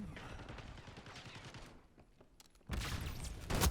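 Video game gunfire in a zombie shooter, a dense rattling fusillade that pauses briefly, then erupts again louder, with faint talking over it.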